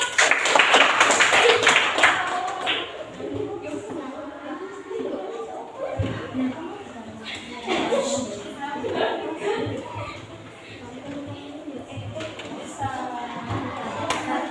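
A group in a classroom claps loudly at the start, then the clapping fades into scattered chatter and voices in a busy room.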